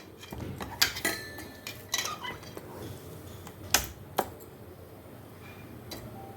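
Tamarind stew for brinjal pachi pulusu, with tempering, jaggery, salt, turmeric, green chillies and onions, is mixed by hand or spoon in a vessel: scattered sharp clinks and taps, close and fairly quiet, fading toward the end.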